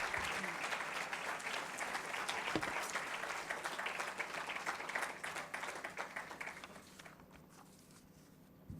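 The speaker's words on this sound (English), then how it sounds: "A round of applause for Shobna Bhartiya." An audience at an annual session applauds Shobna Bhartiya, a journalist and civilian award recipient, with steady crowd clapping that holds for several seconds, then thins and fades toward the end.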